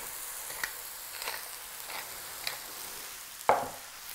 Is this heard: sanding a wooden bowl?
no